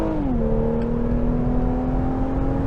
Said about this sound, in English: Gonna put into sport mode, torque brake. Jeez. That is a ferocious launch.